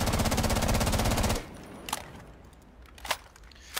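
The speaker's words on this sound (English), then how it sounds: "I'm going to show you me shooting the weapon without moving my mouse in any way" Automatic gunfire from a weapon in the video game Rainbow Six Siege, one sustained loud burst of rapid shots lasting over a second, then stopping, followed by a few faint clicks and thuds.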